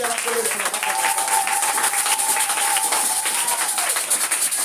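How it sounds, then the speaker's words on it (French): A church congregation applauds the Lord with sustained, loud clapping that fills the room, steady and dense throughout, with voices calling out over it. "Acclamez très fort le Seigneur."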